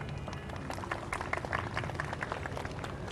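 Applause for a poem from a school audience at a city school's Model Town campus, a steady, busy patter of many hands clapping at moderate level, without voices.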